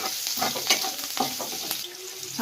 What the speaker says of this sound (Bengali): লঙ্কাটা একটু ভেজে নিতে হবে